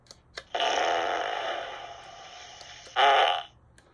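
A comedic fart sound effect: two broad, buzzy blasts, a long sustained one followed by a shorter, louder burst, close and isolated with no talk.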